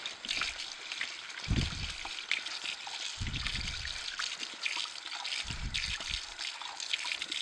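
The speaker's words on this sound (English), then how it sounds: "I'll rinse off the wiper blades" Water from a tap runs and splashes as the wiper blades of an Omega EUJ808 juicer are rinsed off, a steady close trickle with a few heavier gushes and no speech.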